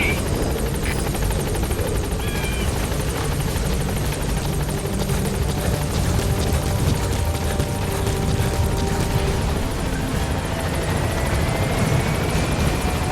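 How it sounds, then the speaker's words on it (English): In Metal Gear Solid V: The Phantom Pain, a support helicopter arrives with steady rotor thumping and engine roar, loud and continuous throughout, with a faint rising whine near the end. "Support helicopter has arrived."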